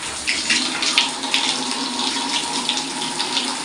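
Water gushes steadily from a newly fitted bathroom shower on PVC pipework, a close, continuous splashing hiss that stays loud and even throughout with no talk over it.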